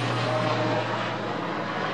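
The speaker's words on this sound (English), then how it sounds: "see an airplane going over" A fixed-wing airplane passing overhead at night, a steady broadband engine drone holding at an even level throughout with a constant low hum beneath, no speech.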